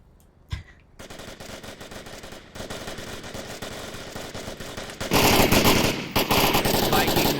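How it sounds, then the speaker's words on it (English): Rapid bursts of automatic gunfire in the VR shooter Onward during a competitive match, starting as a few shots and building into sustained, loud fire near the end, with a faint voice underneath. "Shots from Uncle Sam onto the shack."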